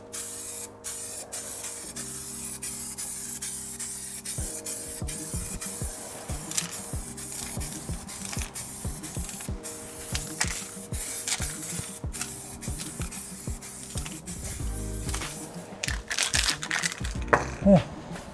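Spray paint hisses from a can in a light coat during a Mini Cooper build, in repeated short and longer bursts, close and steady, with some handling noise and occasional background talk.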